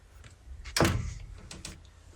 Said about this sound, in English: We'll open these doors.